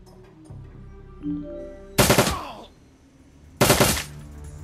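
Automated turrets firing in the video game Shadowrun: Dragonfall, two loud, sharp bursts of rapid shots about a second and a half apart over a quiet musical background.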